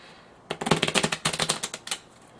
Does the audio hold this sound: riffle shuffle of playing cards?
yes